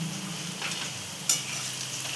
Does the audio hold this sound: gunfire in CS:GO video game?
no